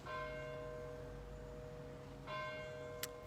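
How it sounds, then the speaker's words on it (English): A church bell rings at a distance with long, shimmering tones. One stroke decays slowly and a second strike follows about two seconds later, over a quiet background. "Hear that bell?"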